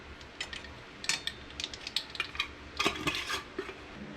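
A spoon stirs lasagna sauce seasoned with thyme and rosemary in a pot, making intermittent clinks and scrapes against the metal in short irregular bursts, with no talking.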